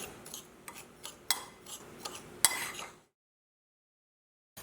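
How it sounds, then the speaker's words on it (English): Chipotle chili pepper being stirred into a mixture in a bowl with a utensil, giving soft scraping and several light clinks against the bowl for about three seconds before it falls silent. "And then we'll give that a nice mix."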